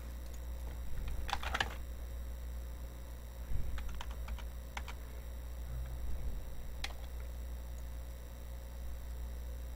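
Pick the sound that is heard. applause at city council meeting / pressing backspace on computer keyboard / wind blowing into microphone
pressing backspace on computer keyboard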